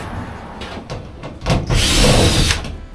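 A power drill drives self-tapping screws during a van build, giving a couple of short whirring bursts and then a longer, louder sustained grinding run close by.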